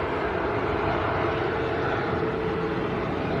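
A Gulfstream business jet at Manchester airport gives a steady, loud, broadband engine roar that holds without break, heard from some distance outdoors.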